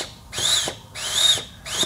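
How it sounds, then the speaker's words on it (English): Compressed air blasts into a Dodge diesel transmission drum during an air check, giving three hissing bursts in quick succession, each with a rising whine, close and fairly loud with no talking. "if when I air check it, it lifts this drum up."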